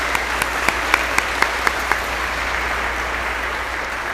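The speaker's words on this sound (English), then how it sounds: "can we give one last round of applause for our soccer team?" An indoor audience at a school sports awards ceremony applauds the soccer team, a dense wash of clapping with a few sharper claps standing out early, steady and fairly loud throughout.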